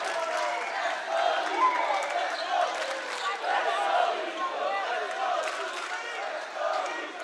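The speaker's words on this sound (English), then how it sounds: "that got the LCA faithful on their stands and chanting, cheering here for the first time tonight" High school boys basketball crowd at Layton Christian Academy, hosting Timpview, chanting and cheering steadily in a gym, a dense roar of many voices that swells and dips rhythmically throughout.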